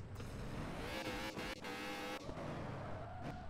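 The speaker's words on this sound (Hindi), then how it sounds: "अबे बहुत ज़्यादा ड्रिफ्ट मार रही है गाड़ी" A car drifting hard in a video game, its engine roaring steadily with tire squeal and skidding throughout, loud and continuous, with a few brief dips in the noise.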